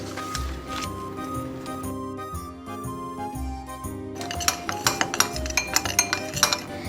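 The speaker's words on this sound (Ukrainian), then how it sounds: "Змішуємо спеції в тарілочці." A spoon clinks against a small plate while mixing spices, salt, mustard and oil, with light scraping early on, then a quicker run of bright metallic taps near the end, close by.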